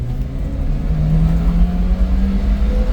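A Subaru Sambar crane truck engine pulls hard under acceleration, a close, loud, steady drone with a rising whine as the revs climb, no talking.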